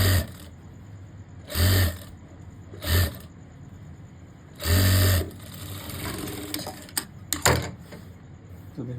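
A sewing machine stitching a boy's cord outfit runs in several short loud bursts separated by pauses, close by, with faint background noise and a few sharp clicks between runs.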